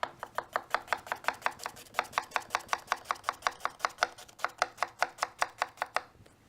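An onion being cut with a Japanese knife on a board, around thirty crisp, evenly spaced close chops in a fast steady rhythm, with no voices.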